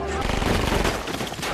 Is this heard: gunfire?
yes